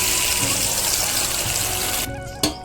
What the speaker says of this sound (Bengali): অল্প করে জল দিয়ে দেবো